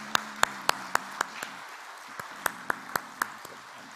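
A church congregation at a Holy Week special dawn prayer service applauds in a steady, even rhythm of about a dozen sharp, distinct claps. The claps are moderately close and ring slightly in the room, with no talking over them.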